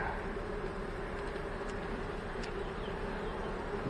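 Honey bees hum densely and close from an open hive, a steady unbroken buzz with no voices over it.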